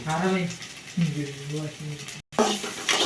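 Ginger garlic paste sizzles and fries with softened onions in a pan for macaroni masala, a steady hiss with brief stirring, under a voice talking.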